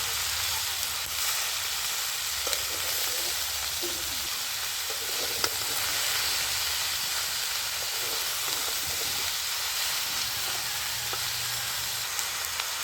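Mixed winter vegetables cook in a pan with a steady, close sizzle and hiss of frying, joined by faint scraping and stirring noises throughout.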